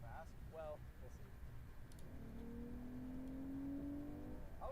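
A Kia Stinger floored in Sport Plus mode, engine note rising steadily in pitch as it accelerates hard, heard from inside the cabin with brief speech beforehand.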